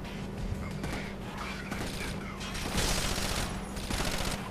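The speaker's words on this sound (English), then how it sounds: "That's a grenade." A grenade blast in Rainbow Six: Vegas 2 lands amid a continuous roar of gunfire and noise, with the loudest surge of the explosion and its rumble coming in the later part.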